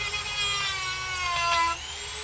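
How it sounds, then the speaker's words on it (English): A small Dremel cutoff wheel slices across the casings of small electric motors, giving a thin, high whine with shifting tones that rises briefly toward the end before easing off, steady and close with no talking. "I just take a little Dremel cutoff wheel and works wonders"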